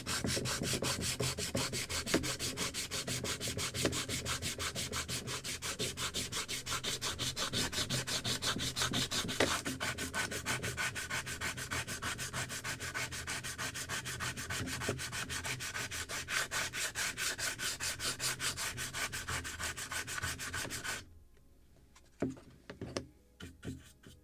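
Hand sanding of wood with sandpaper on a Midwest kit model of a Muscongus Bay lobster smack cabin, a fast, steady rhythmic rasp of back-and-forth strokes close up for about twenty seconds, then stopping to a few light taps.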